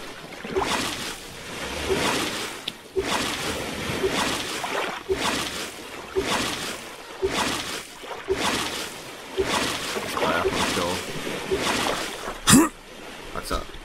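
A raft is paddled across the ocean in the survival game Stranded Deep, with rhythmic splashing strokes about every one and a half seconds over a steady wash of waves.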